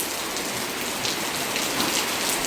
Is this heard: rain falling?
yes